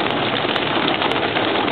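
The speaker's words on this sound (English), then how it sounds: "It's pouring down rain." Heavy rain pours steadily in Cades Cove, heard from a car as a dense, continuous wash of hiss with no voices.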